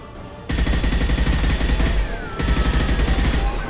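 Sustained gunfire in Mass Effect 2 as the tubes are shot, loud rapid bursts that start abruptly, pause briefly, then resume in a dense, continuous stream without talk.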